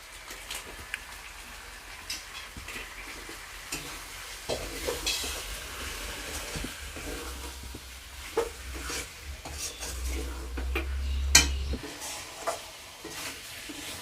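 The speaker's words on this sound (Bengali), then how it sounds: "মাংসটাকে অনেকক্ষণ ধরে কষবে" Chicken being stir-fried for a long time in a pan with Kashmiri chili and black pepper, a low steady sizzle under intermittent scraping and clinks of a spatula against the pan.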